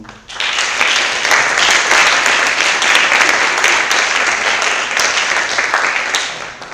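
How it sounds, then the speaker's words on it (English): Steady, loud applause from a large audience at a university congress closing ceremony, sustained for several seconds before tapering off. "So we ask another round of applause for the University of São Paulo."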